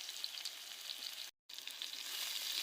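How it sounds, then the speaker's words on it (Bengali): Potatoes, onion, garlic and green chilies fry in a pan with a continuous bright crackling sizzle, close and steady, broken by a short silent gap midway. "আলু আর এই পেঁয়াজ রসুন মরিচগুলো ভাজা হয়ে গেছে তো"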